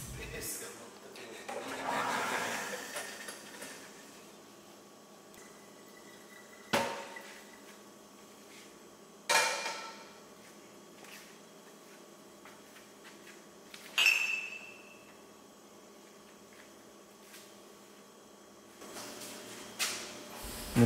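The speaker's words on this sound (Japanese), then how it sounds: "使ったものとかそこにあったものは全部洗っちゃいますね" Used dishes and utensils are washed in a gym dormitory kitchen in Florida, with a steady watery hiss broken by a few sharp clinks and clatters every few seconds.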